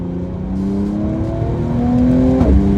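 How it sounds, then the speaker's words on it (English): A car with paddle shifters downshifts, its engine note dropping and exhaust giving a low, steady burble with a quick pitch dip near the end, loud and close with no talk. "Downshifting will give you some burbles."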